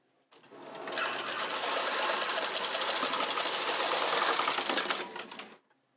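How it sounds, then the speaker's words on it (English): Brother 260 knitting machine carriage sweeping across the needle bed on the first row of yarn, a steady, loud rattling clatter lasting about five seconds, starting and ending abruptly, with no voices. "we can start thread the yarn and knit the first row"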